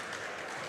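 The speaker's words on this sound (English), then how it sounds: "nice to see the men's team sticking around, supporting the women. It is giving them a round of applause, cheering them on." A round of applause from the men's team for the Wales women's side at a Wales v Scotland 35+ women's basketball match, a dense steady patter of claps filling the hall throughout.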